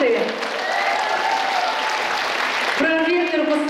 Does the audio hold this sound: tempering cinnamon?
no